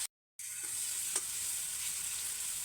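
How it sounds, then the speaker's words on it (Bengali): Onions and spice paste fry in a pan, giving a steady close hiss with a single scrape of stirring, just after a brief moment of silence at the start. "আমি এখন সুন্দর করে কষিয়ে নেব"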